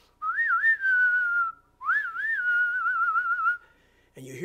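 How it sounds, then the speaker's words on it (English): A person whistles two clear sliding, warbling phrases, each lasting over a second, close and alone, ending in a brief noisy knock. "or maybe give a whistle"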